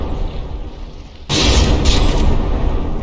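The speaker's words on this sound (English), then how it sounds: "Jaegar taking a couple of direct shots" Cannon shots slam into a battleship during a From the Depths naval battle: a sudden heavy blast erupts into a sustained loud roar of impacts and explosions that carries on to the end.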